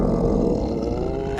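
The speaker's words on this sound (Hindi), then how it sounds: "अच्छा, ये पेट की आवाज थी।" Exaggerated anime-style sound effect of an elf's empty stomach growling from hunger after days without food, a loud, deep, continuous rumbling roar filling the short moment on its own.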